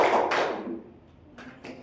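Children in a grade 3 classroom do a short rhythmic clapping game, with a burst of claps at the start, a pause, then two more quick claps, fairly close and moderately loud.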